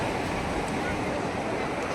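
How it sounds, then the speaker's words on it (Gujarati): Sea waves wash at the shore during a fair at Pingleshwar, a constant broad roar of surf mixed with wind noise on the microphone, loud and unbroken throughout. "જ્યાં લગી દેખાય ના લગી દરિયો જ છે"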